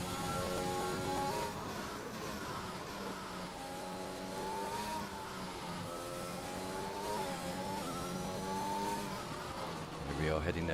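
Formula 1 car engine from the F1 2021 video game on a hot lap around Monaco, a steady high-pitched whine that rises and falls through the gears, continuous and loud throughout, with commentary talking over it.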